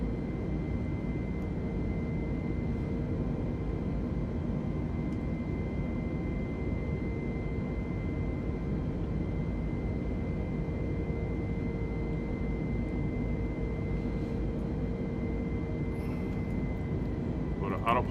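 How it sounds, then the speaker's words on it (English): An Airbus A320neo in Microsoft Flight Simulator accelerates in its climb after takeoff from Cairns, with a steady, unbroken engine roar and airflow drone holding at an even level throughout. "throttles are back to climb mode, and slats are moving up. Aircraft is accelerating."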